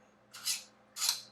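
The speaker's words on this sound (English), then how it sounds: "This pastry cutter, great for chopping the eggs." Pastry cutter chopping boiled eggs in a bowl for deviled eggs, two short scraping, cutting bursts close by, separated by a pause, with no talking.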